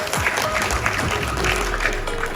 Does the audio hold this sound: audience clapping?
yes